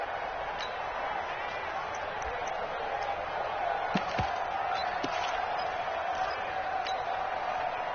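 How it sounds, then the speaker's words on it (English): A stadium crowd in a football video game sends up a steady, broad roar of cheering that holds through the whole stretch, with a few sharp claps and thuds on top and a commentator talking over it. "the crowd getting into it as we come up on a big 3rd down"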